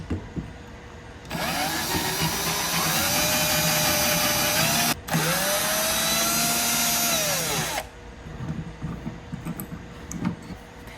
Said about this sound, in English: basically we're just gonna drill through this hole.